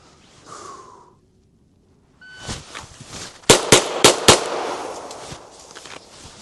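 Pistol shots fired after a draw from a Safariland IncogX holster: a brief rustle, a pause, then shuffling movement before four sharp, loud shots in quick succession, evenly spaced and close by.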